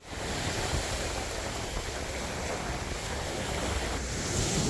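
Surf rolls onto a beach at Tayrona National Park, Colombia, making a constant broad roar of breaking waves. Steady wind buffets the microphone throughout.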